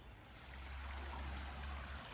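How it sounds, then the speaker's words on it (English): A creek flows beside a woodland trail near Stack Rock in Bedford, Indiana, with a soft, steady trickling and gurgling wash, fairly faint and continuous, with no voices. "don't miss the beautiful creek to the right of the trail"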